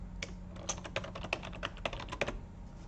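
Fingers tap out quick, uneven bursts on a computer keyboard, crisp close-up clicks with short pauses between keystrokes over a quiet hum.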